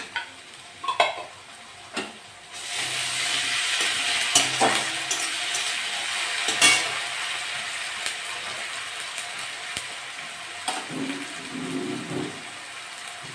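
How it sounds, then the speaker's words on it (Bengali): Ginger-garlic paste fries with browned onions in a pan, a continuous close sizzle interrupted by repeated stirring scrapes and clinks of a spoon. "আমি আদা রসুন বাটা 1 চামচি দিয়ে দেবো"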